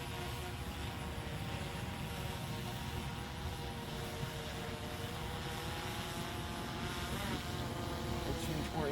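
A DJI Phantom 4 Pro V2 quadcopter hovers in an open field, its propellers giving a steady, unbroken buzzing drone that stays level throughout with no pauses.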